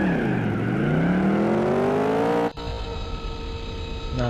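An overpowered car in a racing video game revs loudly, its engine pitch climbing steadily, then drops abruptly into a rough, roaring drone with tire noise, loud and close throughout.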